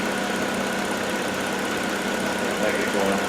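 A Hyundai Tucson engine with a fault that keeps it from completing a drive cycle runs at a steady, even idle throughout, a constant close mechanical hum with no clear revving.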